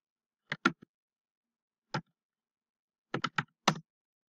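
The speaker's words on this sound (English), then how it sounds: "And over here, you type in the title." A chart title typed on a computer keyboard in a quiet room: a few crisp key clicks in small clusters with gaps of silence between them, close and fairly soft.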